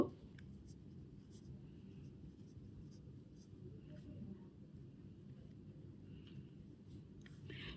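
A pen scratches out numbers by hand on paper during a fifth-grade math lesson, with soft, close, irregular strokes under a low hum and a few quiet taps.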